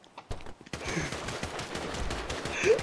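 Rapid heavy gunfire in a video game, a stuttering run of close shots building after a few sparse pops, with a sharp loud burst at the end.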